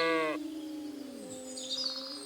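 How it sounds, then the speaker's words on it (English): A single sheep in Kingdom Come: Deliverance II gives a short, clear, nasal bleat up close, followed by quieter ambient tones and a faint high chirp. "Greetings, sheep."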